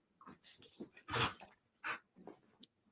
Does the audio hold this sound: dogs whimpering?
yes